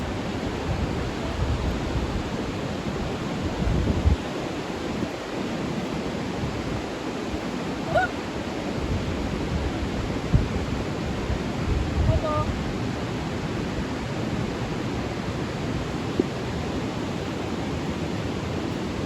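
A broad, steady rush of falling water at a waterfall near Vancouver roars continuously, with faint voices and occasional small bumps underneath.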